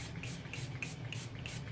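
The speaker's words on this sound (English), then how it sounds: "So I'm just spraying down with some alcohol" Alcohol misted from a spray bottle into a soap mold, heard as a series of short, soft spritzes in a steady rhythm, close and fairly quiet with no talking.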